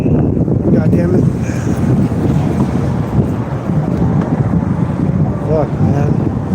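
Strong gusting wind buffets an outdoor microphone in a steady, loud low rumble throughout, with a voice speaking over it.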